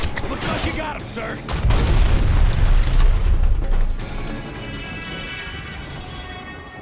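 A grenade explosion in the video game Blacksite Area 51 bursts out as a loud, heavy boom that rumbles for a couple of seconds, then fades into a lingering, ringing tail of game ambience.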